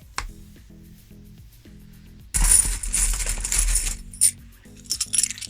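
Vintage pennies, some from around 1911 and 1912, drop while being sorted: a quiet low hum gives way to a loud, close clatter of coins spilling for about two seconds, followed by a few scattered clinks.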